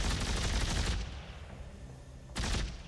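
A pulse rifle fires in the sci-fi shooter Dead Space 3, giving dense rapid bursts of automatic fire, with a lull of softer noise between two loud volleys.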